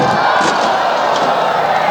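Loud, dense crowd roar with cheering and shouts at a monster truck show in Franklin, Pennsylvania, sustained and steady throughout as a truck tears up the track.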